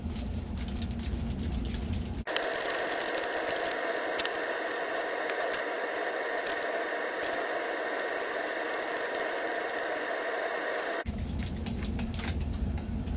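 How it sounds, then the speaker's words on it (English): An oxygen cylinder feeds gas through a diffusion stone into beer wort during homebrewing, giving a steady broadband hiss and bubbling that starts abruptly, runs for about nine seconds, then stops. "diffusion stone and this oxygen cylinder here. So I'm going to turn that on."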